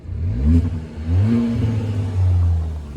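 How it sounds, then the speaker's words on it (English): Close by, a 2021 Kia Forte GT with a six-speed manual revs in a few rising surges, the exhaust giving a low burble between pulls, with no voices. "You do hit a little burble on the exhaust."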